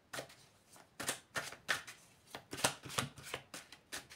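Cards shuffled by hand before a tarot reading, a series of crisp riffling bursts in an uneven rhythm, close and clear with no talking over them.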